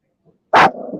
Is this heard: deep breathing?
no